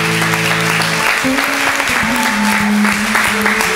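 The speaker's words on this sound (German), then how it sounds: "Also klatschen wir für Jesus." An audience claps together in a hall during a church gathering, steady applause over sustained music tones, with no talking.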